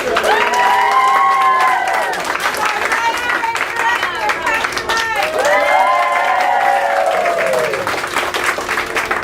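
An audience at a church production in Mount Joy applauds the film crew and video group, with steady clapping and cheering alongside loud voices and sustained tonal sounds, filling the whole stretch at close range.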